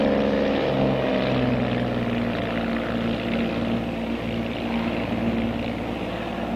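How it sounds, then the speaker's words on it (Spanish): A twin-engine Bonanza airplane climbs after takeoff with its gear up, giving a loud, steady propeller and engine drone with a constant tonal hum that fills the whole stretch without a break. "Bimotor Bonanza 96 Tango en el aire a las 2:05."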